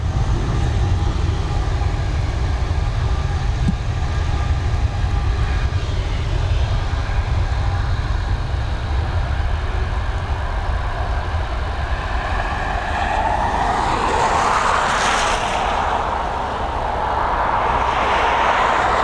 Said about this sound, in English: this A220 thinking about departing. She is going now.